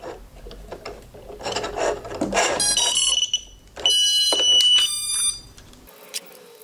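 A Rodeo 150 quadcopter powers up as its battery is connected, with handling rustles and scrapes followed by a series of electronic startup beeps and tones, close and clear.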